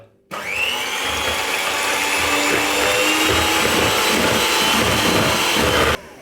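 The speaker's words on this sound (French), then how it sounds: "je vais monter donc mes blancs d'œufs en neige" An electric hand mixer whips egg whites to a snow for a frozen cherry marquise. It gives a steady, loud, high motor whine with a rattling hum that starts abruptly and runs unbroken for about six seconds before cutting off.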